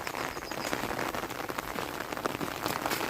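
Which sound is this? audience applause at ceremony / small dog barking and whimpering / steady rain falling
steady rain falling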